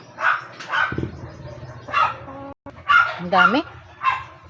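Pet dogs in a backyard bark in short, close bursts with a few yips and a whimpering whine, while someone talks between and over them.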